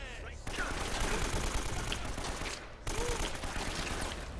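Sustained gunfire from a firefight in the video game Uncharted: Drake's Fortune, a dense fusillade of shots that runs almost without pause and drops out briefly near the end before resuming.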